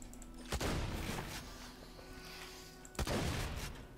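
Enemy gunfire in Borderlands 2 arrives in two sharp bursts of shots about two and a half seconds apart, with a quieter hum of game sound between them.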